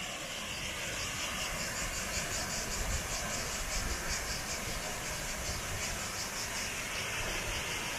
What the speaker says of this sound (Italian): ecco le cascate